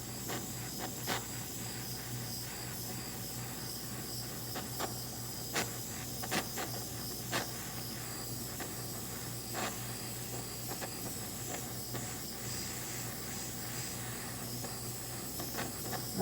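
Kitchen torch melting sugar on top of a crème brûlée, a faint steady hiss of gas flame running throughout with a few light clicks and taps.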